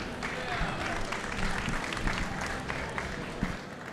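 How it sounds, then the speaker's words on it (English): An audience at a reef-keeping aquarium conference applauds steadily and fairly quietly, a dense wash of many hands clapping at a distance for about four seconds, with no speech. "So give a big round of applause for Dr. Sanjay Joshi."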